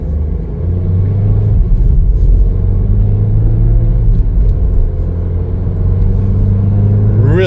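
A 2024 Chevrolet Equinox AWD LS accelerating, heard from inside the cabin as a loud, steady low engine and road rumble that rises slightly toward the end.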